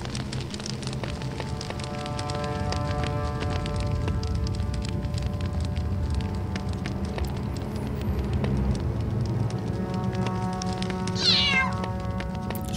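A cat meows in a Harry Potter video game, standing out near the end over a steady wash of rain-like ambience and layered game sounds.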